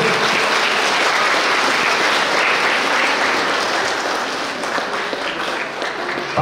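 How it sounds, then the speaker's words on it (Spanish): Steady applause from a congregation at an Easter Resurrection service in Pampa Blanca, dense and continuous throughout, easing slightly near the end. "Vamos a recibir con un fuerte voto de aplauso a estos cristianos católicos que"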